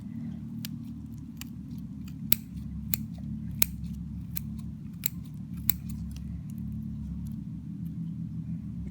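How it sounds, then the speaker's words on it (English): Scissors snip repeatedly through the tough sclera of an eye during a dissection, sharp distinct clicks spaced about a second apart over a low continuous rumble, with no talking. "So now I got my scissors into the sclera"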